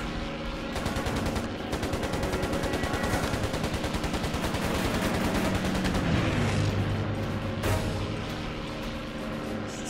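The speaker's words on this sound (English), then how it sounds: "I think somebody's shooting me with a pistol" Steady rattling machine-gun fire in the flight game Air Conflicts, a fast continuous stream of shots over a droning engine, loud and unbroken for the whole stretch.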